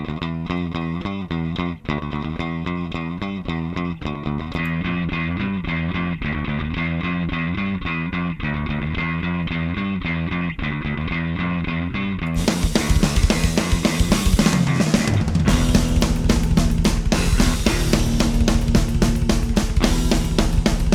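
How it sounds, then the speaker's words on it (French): Solo bass guitar track through an 8x12 classic amp preset, a steady distorted bass line playing continuously, growing denser and grittier partway through. "Donc je vais vous mettre la basse en solo."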